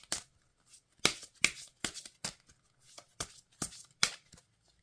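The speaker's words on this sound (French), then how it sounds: "Elle se mélange très bien, elle glisse pas mal." A deck of oracle cards being shuffled by hand, about ten crisp riffling bursts in a steady rhythm with short gaps between them, close and clear, with no talking.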